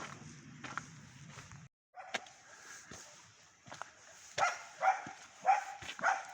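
A dog barks excitedly near a hillfort in the countryside, several short sharp barks and yips in an irregular burst, fairly close, with faint footsteps between them.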